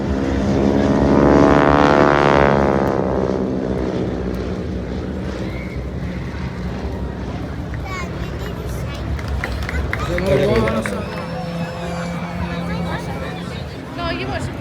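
Propeller plane of the Aero Superbatics wing walking team roaring past loudly on its final pass over Ayr beach, then fading, amid crowd chatter and speech.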